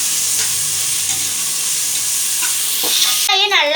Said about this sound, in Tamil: வெங்காயம் நான் 2 வெங்காயம் எடுத்துருக்கேன். நல்லா கலக்கி விட்டுக்கோங்க.